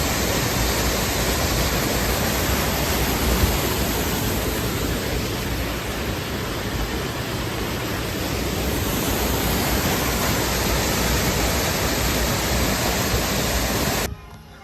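Continuous, close roar of a river flowing past the hill temple at Thirukurungudi, an even, dense rush of water holding steady throughout before cutting off abruptly at the very end, with no talk.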